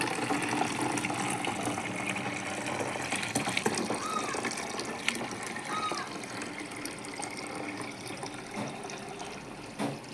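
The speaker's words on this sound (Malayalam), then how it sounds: "ഇനി നമുക്കിത് ഒരു കുപ്പിയിലോട്ട് ഒഴിക്കാം" Strained homemade juice poured into a bottle, a steady liquid gush and gurgle running close and continuous for about ten seconds with no talking.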